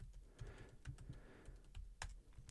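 Quiet, close typing on a computer keyboard, a quick run of soft key clicks with an irregular rhythm, one firmer tap near the end, no voices.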